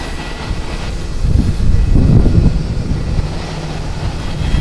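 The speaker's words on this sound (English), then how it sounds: "That is the ANA Flight 402 coming in from AXT. It is a 53-minute flight aboard a Boeing 767-300AR, 15 years old." An ANA Boeing 767-300 lands at Haneda Airport in Tokyo on a very windy day: a loud, continuous low engine roar swells and recedes under heavy wind buffeting, with no voices.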